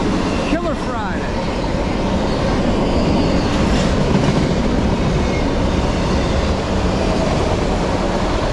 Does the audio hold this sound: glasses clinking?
no